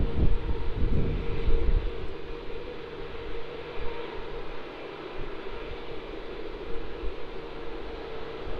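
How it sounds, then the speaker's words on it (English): A Singapore Airlines Boeing 777-300ER lands at Melbourne Airport, its engines a distant broadband jet roar with some wind buffeting, louder at first and then settling into a steady rumble. "On final approach now, we have the Singapore Airlines 777-300ER. Operating as SQ237, which is going to be touching down on runway 16"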